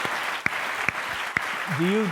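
An audience claps in a steady, fairly close patter, broken by a few sharp knocks, with a voice starting to speak near the end.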